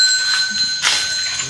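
A bell set out on an island rings with steady, sustained high metallic tones that linger throughout, with a brief brighter strike partway through against a faint background hiss.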